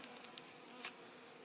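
Honey bees buzzing steadily on top of an open hive in spring as a pollen patty is set over the brood, a continuous faint drone with a few closer passes standing out briefly.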